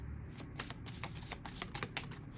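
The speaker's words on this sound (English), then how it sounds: "I'm gonna shuffle again because it seemed very chaotic." Tarot cards being shuffled in quick riffling bursts, a series of crisp rattling flutters repeating over a couple of seconds, close to the microphone.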